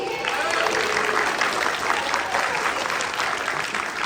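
Convention panel audience at an anime expo in San Antonio applauding for a guest named Josh, a loud, even burst of clapping that fills the whole stretch, with a few voices under it.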